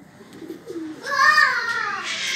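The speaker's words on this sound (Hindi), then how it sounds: "सही है कबूतर देख लो।" Pigeons kept in the open on a rooftop coo close by, with a low soft note followed by a louder, rising and falling warbling call. Faint children's voices can be heard behind them.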